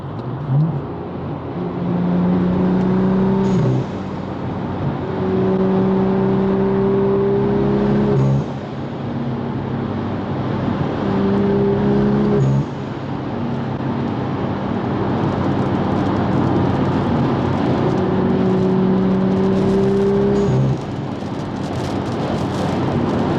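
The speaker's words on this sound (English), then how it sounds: "See if you can hear the little M2 burble that I've mapped in with MHD." BMW M2 tuned with MHD driving along, a loud steady engine drone with gear changes and rising and falling tones, the downshift burble hard to pick out beneath the engine noise.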